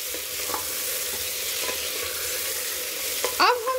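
Fried paneer being stirred into veg biryani inside a pressure cooker, a steady close sizzle with scraping spoon strokes and a brief clatter near the end.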